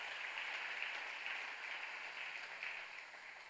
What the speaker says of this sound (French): Acclamons très fort pour la parole du Seigneur.